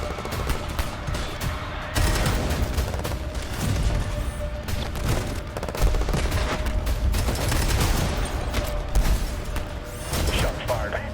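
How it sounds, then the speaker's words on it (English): Video game trailer gunfire: dense, rapid bursts of shots and booming impacts fill the whole stretch, loud and continuous, with voices breaking through at moments. "Shots fired."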